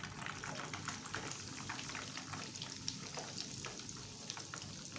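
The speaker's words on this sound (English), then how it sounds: "we'll continue the process till we are done frying" Dense, steady sizzling and crackling of cornflake-coated chicken deep frying in hot oil, continuous and fairly close, with no voices.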